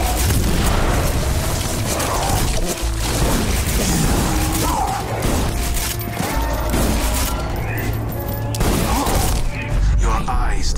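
Shotgun fire in the game Borderlands, heavy booming blasts landing in quick succession over constant loud combat noise and mechanical clatter, with no clear pauses.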